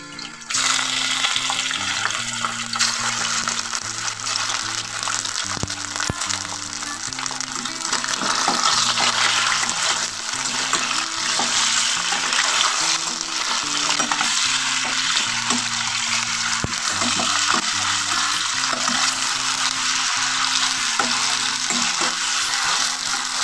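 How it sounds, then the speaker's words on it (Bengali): Chicken pieces hit hot oil and fry in a continuous loud sizzle, a dense hiss running throughout over steady background music, with no talking. "এবার তেলটা আমার গরম হয়ে এসছে। আমি এবারে চিকেনগুলোকে একটা একটা করে আমি ছেড়ে দিচ্ছি।"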